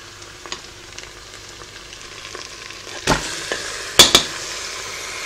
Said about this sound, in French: Je rajoute les rognons égouttés.